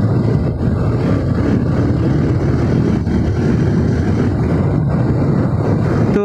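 Bajaj Pulsar 220 motorcycle, a BS4 model, riding fast in fourth gear, its steady loud engine drone blended with heavy wind rush against the microphone, continuous and close.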